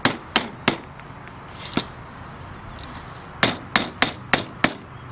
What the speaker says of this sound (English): hammer it down on, making sure not to use the head of the hammer in the wood so you don't scar the aluminum